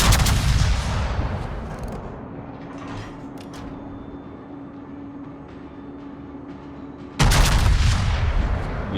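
Heavy naval gun blasts from battleships in the World of Warships game, a booming salvo that decays into a low rumbling hum before another loud shot bursts in near the end.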